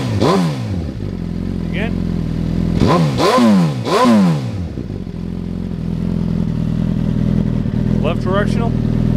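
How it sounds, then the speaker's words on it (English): A 2014 Suzuki GSX-R 1000 sport bike at idle is revved sharply several times, each rising and falling close by, then settles back to a steady idle while someone briefly talks. "rev her up a few times"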